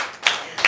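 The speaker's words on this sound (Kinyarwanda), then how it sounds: "Siko mutamuha amashyi" Two sharp bursts of hand clapping in a classroom, a short isolated clap followed by another about a third of a second later, fairly close and with no talk.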